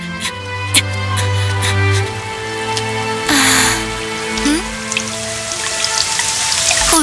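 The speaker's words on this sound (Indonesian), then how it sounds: "Hujan." Cartoon rain falls steadily through a scene in the Doraemon adventure set in an African jungle, a patter of drops under music and effects, with brief bursts of louder splashing partway through.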